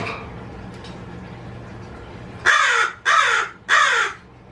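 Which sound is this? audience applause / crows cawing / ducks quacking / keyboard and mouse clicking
crows cawing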